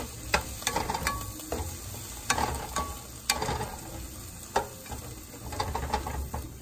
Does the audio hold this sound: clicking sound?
no